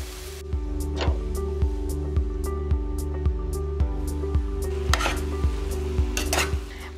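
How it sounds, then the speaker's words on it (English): Drained cooked pasta tossed into a pan of sautéed onions and vegetables, with steady rhythmic stirring scrapes and clinks about once every half second over a soft sizzle, close and moderately loud, no talking. "we're gonna drain this and put it right into the pan with the vegetables."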